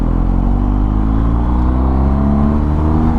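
A BMW R1250 GS motorcycle's engine revs loud and close after a wrong gear, holding a steady, throaty drone with rising harmonics and no talk over it.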